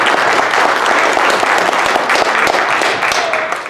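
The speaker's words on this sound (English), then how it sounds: "Let's give one more round of applause to Elliot." A crowd applauds steadily and loudly, dense clapping filling the whole stretch without pause.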